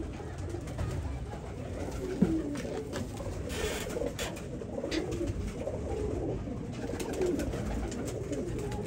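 Teddy and Ferozpure breeding pigeons coo softly in a loft, low murmuring calls continuing under steady background noise with no talk.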